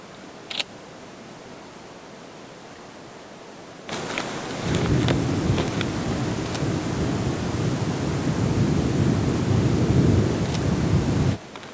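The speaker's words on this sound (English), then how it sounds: "That was some thunder." Deep thunder rumbles loudly and continuously for several seconds over steady rain in an Oregon desert, then cuts off abruptly.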